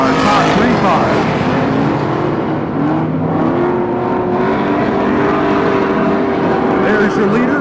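Stock cars racing around an oval track at the Turkey Classic in Pearsonville, California, engines roaring loudly and continuously as the pack runs close, with a race commentator talking over the din.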